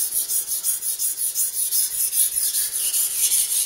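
A Masahiro kitchen knife is worked over an 8,000 grit whetstone with slurry, giving a steady, close, rhythmic rasping scrape of regular strokes, with no voices.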